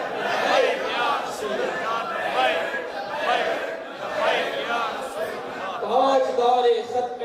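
A crowd in a Friday sermon gathering chants religious slogans in loud rhythmic surges that rise and fall, with call-and-response bursts of many voices together.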